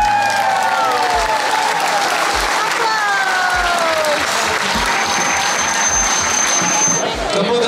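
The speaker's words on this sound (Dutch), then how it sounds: "Maar ik applaus voor deze man" Dense crowd applause at a finale-day gathering in Tytsjerk, loud and continuous throughout, with cheering voices and whistle-like calls riding over the clapping.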